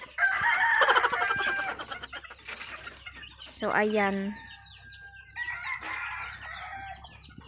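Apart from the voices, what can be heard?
chickens clucking and rooster crowing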